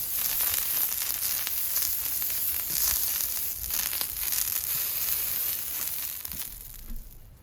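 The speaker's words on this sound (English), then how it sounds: "You can hear that satisfying sizzle as the oil hits the hot metal." Loud, continuous sizzling and crackling of cooking oil spray on the hot metal of a smoker, steady throughout with a few sharper pops near the end.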